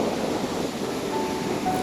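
Water swirling in a forest waterfall pool: a steady, dense rushing roar, loud and close, with no talking.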